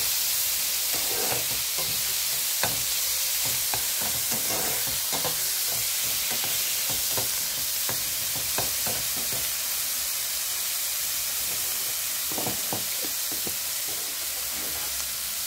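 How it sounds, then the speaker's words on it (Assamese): Jatilao seeds frying on low flame with salt and turmeric for a chutney, a continuous close hiss of sizzling oil broken by scattered sharp pops and the scrape of stirring, steady throughout with no voices. "আৰু এতিয়া মই লো ফ্লেমত এইখিনি ভাজি থাকিম"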